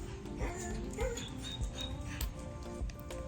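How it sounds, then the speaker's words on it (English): Dogs chasing squirrels bark and whimper in short, sharp bursts, fairly faint and scattered among outdoor background noise. "Dogs after squirrels, of course."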